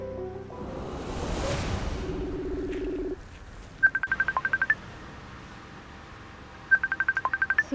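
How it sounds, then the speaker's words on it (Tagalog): A phone receiving an incoming call gives two bursts of rapid electronic ringing pulses, each a quick run of evenly spaced trills after a soft whooshing swell. "Si Masong, bakit kaya siya tumatawag?"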